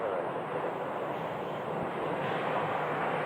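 An airplane taxis at Sky Harbor airport, its engines giving a steady, broad roar heard from a distance that holds evenly throughout.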